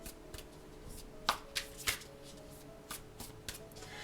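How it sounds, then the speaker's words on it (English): Tarot card deck being shuffled by hand, crisp riffling flicks and soft slaps of cardstock in irregular bursts, close and fairly quiet with no voices. "I do have to admit, shuffling this, it's a nice shuffle."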